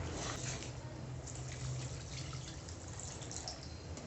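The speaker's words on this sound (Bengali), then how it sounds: "এবার আমি জল দেব।" Water from a spice-washing bowl is poured into a pan of koi fish curry after the spiced oil has been fried down. A faint, steady trickle and splash continues throughout the clip with no talking.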